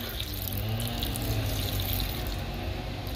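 Vinegar poured into a pan of simmering milkfish stew, a continuous rushing, splashing liquid stream that stays loud and steady throughout without any voices.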